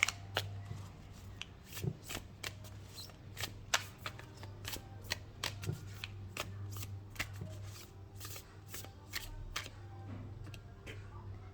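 Tarot or oracle cards shuffled by hand during a card reading, a run of crisp riffling slaps and flicks at close range, steady throughout, with a low hum underneath.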